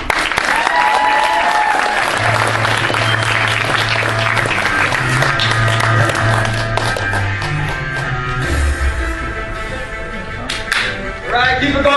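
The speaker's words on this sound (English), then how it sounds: "give him a big round of applause" Loud, sustained applause and cheering from a comedy showcase crowd after a first-time stand-up comedian, mixed with sharp claps and whoops and carrying on under a low musical tone.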